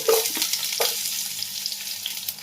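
Steady, close sizzling of finely chopped onion frying in a hot pan, with a few clattering stirs near the start and no voices.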